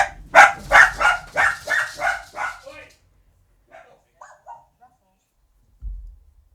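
A dog barks loudly in a rapid series of about eight barks, then gives a few faint whimpers and yips, with a low thump near the end.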